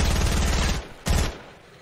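Rapid automatic gunfire in Fortnite, two tight bursts of rattling shots, the first longer, the second brief, each cutting off into quiet.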